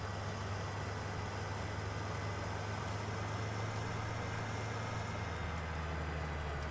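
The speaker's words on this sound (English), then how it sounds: "Nice engine sounds on the harvester." A combine harvester engine in Farming Simulator 19 drones steadily, a low continuous engine hum that holds even throughout, close and without talk.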